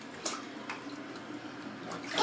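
Water splashes and sloshes as a baby plays in a bathtub. The splashing is short and close, and it grows louder right at the end. No one speaks.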